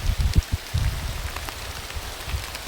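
Light drizzle falls outdoors around a farmyard where cows stand untethered in the open, a soft steady patter of drops close by with a few low thumps and no talking.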